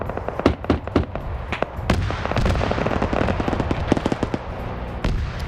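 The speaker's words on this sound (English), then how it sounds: "Autocannon from that remaining Op4 BMP-3 is now firing." Autocannon on a BMP-3 infantry fighting vehicle in a large-scale multiplayer military shooter, firing irregular bursts of sharp cracking rounds, some rapid runs and scattered single shots, over a continuous rumble of distant battle noise.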